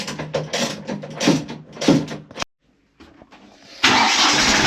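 A boat motor cranks and catches, then after a brief silence roars up to a steady loud drone.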